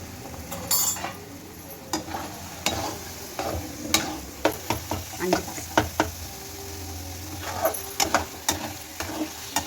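Mashed mutton blood is stirred in a frying pan with turmeric, giving quiet, irregular spoon knocks and scrapes against the pan over a faint sizzle, with a low murmur in the background.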